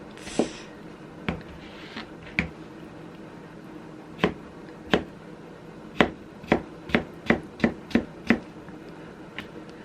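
A knife chopping unripe bananas into bean-sized pieces on a cutting board, sharp close knocks, sparse at first, then a quicker steady run of cuts.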